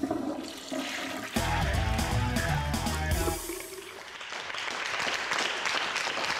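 A toilet flushes loudly with a rushing surge of water that swells, churns, then drains away into a softer trickling refill, close by and alone.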